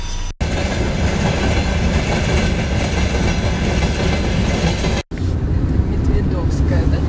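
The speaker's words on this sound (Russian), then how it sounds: "12-часовая электричка, наверное, да?" An electric commuter train rolls past near the Medvedovskaya stanitsa crossing, a loud continuous rumble with clattering wheels, briefly cut out twice, and voices talking over it.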